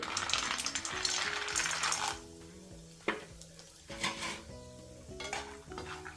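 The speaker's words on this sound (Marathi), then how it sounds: "बदामाचे तुकडे करून घेतले बदाम तळून घेते" Almond pieces frying in a pan for Marathi methi-dink dry-fruit laddoos: a bright sizzle that fades after two seconds, followed by sharp metallic clinks and scrapes of a spoon against the pan.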